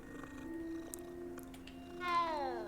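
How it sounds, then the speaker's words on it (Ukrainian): A cat purrs steadily while being petted in Hogwarts Legacy, a soft continuous rumble with a brief rising meow-like tone near the end, close and fairly quiet with no talk. "Що це за кицька? Це просто коти, які туди по території ходять."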